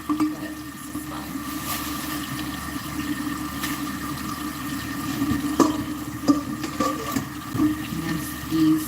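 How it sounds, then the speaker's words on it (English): Tap water runs steadily into a kitchen sink while utensils are rinsed off after baking a carrot cake, a continuous splashing flow with small clinks and bumps near the end. "Rinse these guys off."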